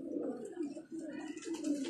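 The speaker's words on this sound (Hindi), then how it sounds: "और अब ये इसे रामपुरी कबूतर कहते हैं।" A Rampuri pigeon, seven years old, coos in soft repeated low rolling calls, close and clear, with faint background sounds around it.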